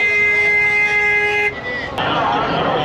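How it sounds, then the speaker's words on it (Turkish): A sustained car horn blares for over a second on a chaotic Cairo street, then cuts off into general traffic noise with a sharp click, loud and close. "Sürekli bir karmaşa, sürekli bir kaos, korna sesi, araç trafiği"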